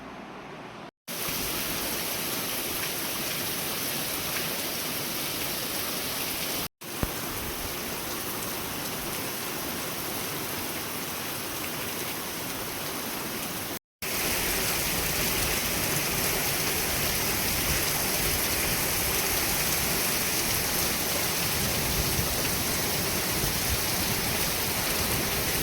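Heavy monsoon rain pours steadily over a village, a dense, even roar of drops on surfaces that fills the whole scene, with two brief silent cuts and no voices.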